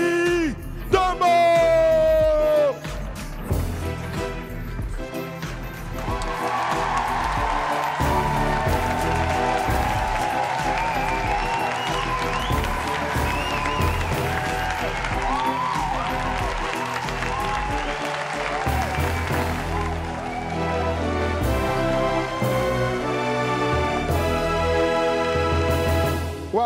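A television studio audience cheers and applauds a performer's entrance, with sustained clapping and whoops under loud music after a brief spoken introduction.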